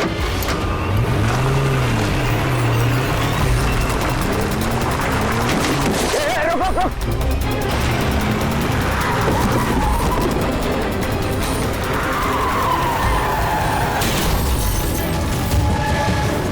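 Car reversing and skidding during a police checkpoint scene in the Indian TV crime drama CID, a loud, continuous rush of engine and tyre noise with a few bursts, and no talking.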